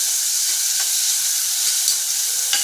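Chopped onion sizzling in hot oil in a pan, a steady bright crackle with soft stirring scrapes at regular intervals, no voices.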